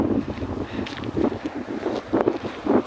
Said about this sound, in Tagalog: Tapos mahangin.